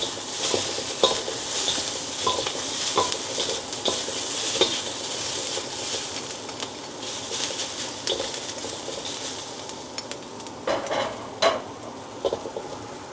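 Seafood stir-fry with oyster sauce tossed in a hot pan, a steady loud sizzle with scraping utensil and metal pan clatter throughout, brief sharper clanks near the end.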